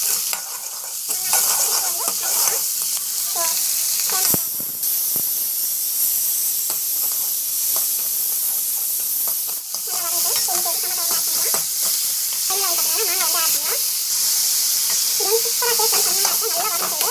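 Onions and garlic sizzle and hiss loudly and constantly in hot oil, with occasional stirring scrapes and some faint talking in the background.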